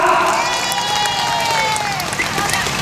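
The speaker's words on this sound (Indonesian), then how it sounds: "berikan aplaus yang meriah" A crowd at a labor union street rally for the FSP RTMM-SPSI cheers and applauds, a sustained roar of voices and clapping with whistle-like tones rising above it.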